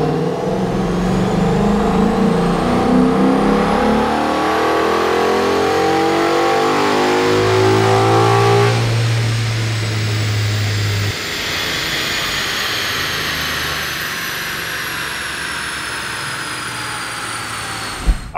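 A car fitted with an aluminum driveshaft revs hard and continuously on a chassis dynamometer, its pitch climbing steadily to a loud peak, then winding down as the drone slowly fades.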